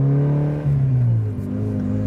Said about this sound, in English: This exhaust isn't bad.